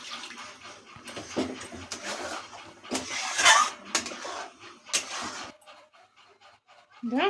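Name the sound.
water poured into cooking eggplant and potato curry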